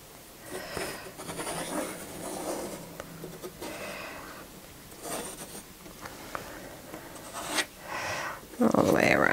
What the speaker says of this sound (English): I'm going to put my compass in the middle of a sheet of paper, oops, and draw a circle.